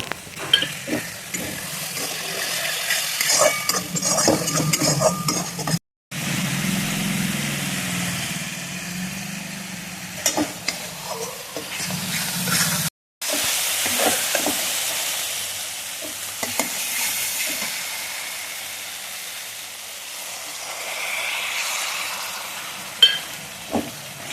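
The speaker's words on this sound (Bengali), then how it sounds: "আদা কাঁচা লঙ্কা জিরে বেটেছিলাম সেটা কিন্তু অ্যাড করে একটু নাড়াচাড়া করে নেব" A ground paste of ginger, green chili and cumin fries in oil in a pan while being stirred, giving a continuous loud sizzle with scraping stir strokes and two brief dropouts, close up and without talk.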